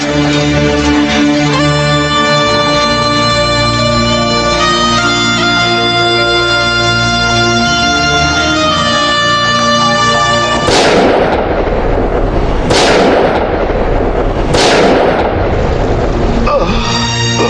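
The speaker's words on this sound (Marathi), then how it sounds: "हा तोफांचा आवाज झाले" Three heavy cannon blasts boom out in quick succession at a hill fort, each a loud broadband burst with a decaying tail, coming after a long stretch of sustained droning music.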